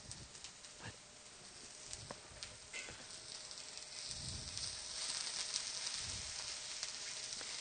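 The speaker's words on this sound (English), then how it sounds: "We just let it saute for a while till it's nice and brown" Pansit sautéing in a pan, a soft steady sizzle that builds slightly louder, with occasional thumps and clatters from stirring.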